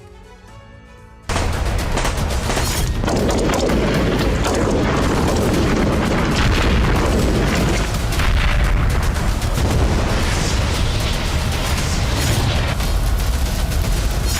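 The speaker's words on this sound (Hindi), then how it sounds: "DLA बलूचिस्तान में जगह जगह विस्फोट कर रही है और इससे शहबाज सरकार और सेना में हड़कंप है।" Heavy explosions and booming blasts across Balochistan roar continuously after a sudden loud onset, dense and rumbling with crackling gunfire-like bursts throughout.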